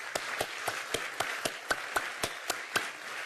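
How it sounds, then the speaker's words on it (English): Sparse, evenly spaced hand claps ring out at an anniversary event honoring NIH colleagues, a few distinct sharp claps in a slow rhythm with no talk. "I hope we'll give a round of applause to our NIH colleagues."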